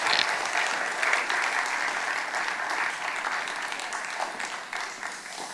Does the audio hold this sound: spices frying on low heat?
no